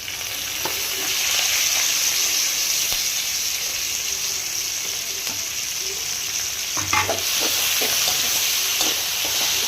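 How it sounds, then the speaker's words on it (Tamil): Ginger garlic paste, curry leaves and chopped tomatoes sizzle and fry steadily in a hot pan, with a louder burst of sputtering and stirring partway through, close and continuous with no talk. "அதை நல்லா வதக்கிட்டு அதில் கொஞ்சமாக கருவேப்பிலை, நம்ம வெட்டி வச்ச தக்காளியும் சேர்த்துக்கலாம்."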